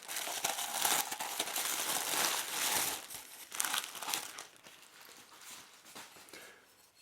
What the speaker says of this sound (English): Let's start off by unwrapping the top.